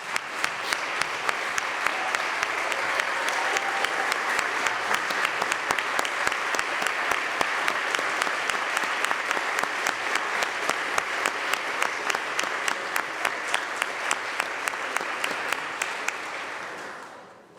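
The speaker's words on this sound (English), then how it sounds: "The nominee is confirmed, and now you may applaud for Mr." Sustained applause fills the New York State Senate chamber for a newly confirmed nominee, a dense, even wash of clapping lasting well over fifteen seconds before tapering off at the end.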